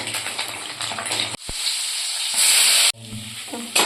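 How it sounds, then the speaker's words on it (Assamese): Steady sizzling of potatoes frying in hot oil, loud and close, with a brief clunk and stirring noises partway through. "এফালে আলুখিনি ভাজি লৈছোঁ"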